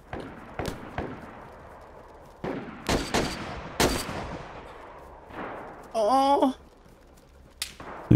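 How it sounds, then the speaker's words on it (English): Scattered single gunshots in the survival shooter DayZ, sharp cracks spaced irregularly at medium distance, with a brief voiced sound partway through and another shot near the end. "There's a guy shooting at me."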